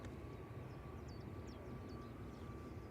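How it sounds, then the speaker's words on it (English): A TUI airliner departing Manchester Airport for Alicante, a steady broad jet engine roar held at constant loudness throughout, with faint bird chirps above it and no talk. "Here goes the TUI to Alicante."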